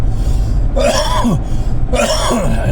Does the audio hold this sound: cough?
yes